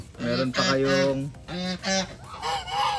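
A breeder goose gives a run of loud, nasal honks close by, in several bursts with short gaps. A person speaks briefly between the calls.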